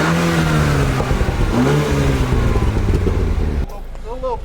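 BMW car engine revving loudly in a few rising and falling bursts, close by, before cutting to quieter idle with a voice talking near the end.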